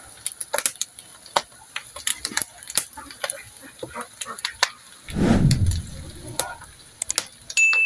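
Garlic hitting hot oil in a pan for a pork blood stew, a sudden loud close sizzle bursting in after scattered clinks and taps of utensils, then fading into softer crackling.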